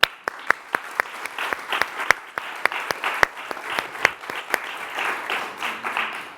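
A small audience claps after a finalist award presentation: scattered, sharp individual claps at an uneven pace, fairly close, growing into a denser patter near the end, with no talking.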